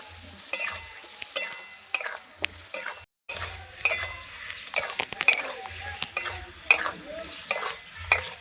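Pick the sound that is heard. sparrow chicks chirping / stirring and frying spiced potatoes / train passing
stirring and frying spiced potatoes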